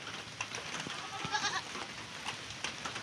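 A goat gives a short bleat amid a steady background hiss of rain, with faint shuffling of many goats crowded close by in a small shelter.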